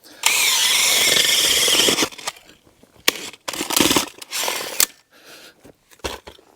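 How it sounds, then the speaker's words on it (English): Engine-powered earth auger with a larger bit starting with a roar that runs steady for about two seconds, then stops; bursts of drilling and clunks follow in stony ground, close and loud. "Firstly, a larger earth auger bit."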